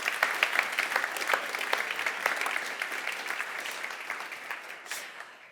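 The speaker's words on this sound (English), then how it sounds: "please give a warm applause again to all the speakers that were here tonight" Warm applause from a festival audience for the evening's speakers, a dense steady wash of many hands clapping that fills the room and slowly tapers off toward the end.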